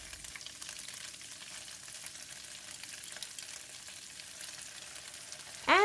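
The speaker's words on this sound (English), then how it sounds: "Give it a stir for about 2 minutes or until all seasonings are well combined and the tofu is cooked" Tofu and garlic stir-fry with sesame oil, salt, oyster sauce and pepper, sizzling steadily and quietly in the pan for several seconds, then a sharp, louder scrape of stirring right at the end.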